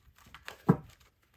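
A brief flurry of soft papery rustling and flicking as tarot cards are shuffled, with one louder crinkly burst in the middle, then quiet.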